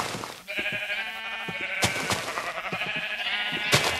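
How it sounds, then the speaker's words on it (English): Sheep bleat repeatedly in the video game Minecraft, several overlapping bleats, clear and close, with short sharp clicks between them and no talking. "Oh, look, a gray sheep."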